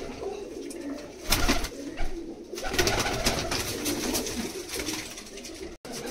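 Pigeons cooing in low, throaty murmurs amid rustling and fluttering noises, fairly close, continuing throughout with some background hiss.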